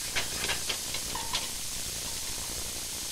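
Onion with red and green pepper trimmings cooks in a pan, a soft, steady hiss with a few faint clicks of a utensil early on, moderately close.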